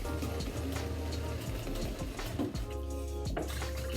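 A plastic milk carton with water inside, capped and shaken to rinse out leftover milk, giving a continuous close sloshing and splashing with a few bumps.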